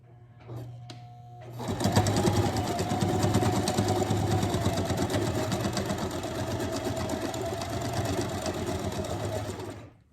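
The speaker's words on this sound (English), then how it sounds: "now I'm just going to sew it closed and then reinforce it" A sewing machine stitches closed a bulky homemade heat and cold pack. A few soft clicks lead into a steady, close, rapid mechanical whir that runs continuously to the end.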